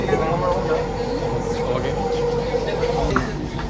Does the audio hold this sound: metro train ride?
yes